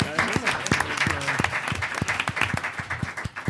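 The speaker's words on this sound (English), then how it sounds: "I'd like to invite a round of applause" Audience at a panel discussion on gender in the military and security sector clapping at the close, a mix of individual claps and a continuous patter, with a voice speaking briefly over it at the start.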